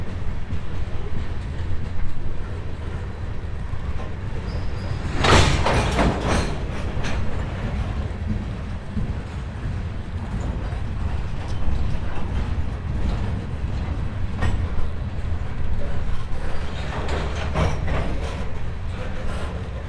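A CSX local freight train, L352, led by a pair of classic EMD four-axle locomotives, rolls past on the CC Subdivision with a loud, steady rumble and rattling wheel clatter, plus a sharp burst of noise early on.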